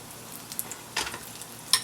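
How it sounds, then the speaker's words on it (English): A mashed potato taquito, laid seam side down in hot oil, fries with a steady, soft sizzle and a few sharper crackling pops. "then you're going to fry it just like a taquito"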